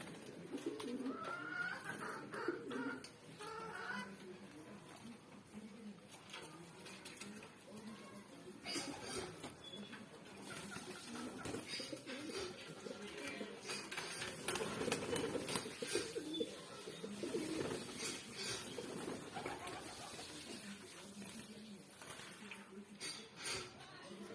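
Pigeons coo softly in low, rolling calls, fairly faint, with a voice talking intermittently over them.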